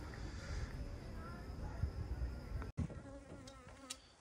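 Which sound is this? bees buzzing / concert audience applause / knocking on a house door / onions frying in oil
bees buzzing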